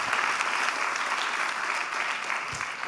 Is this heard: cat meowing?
no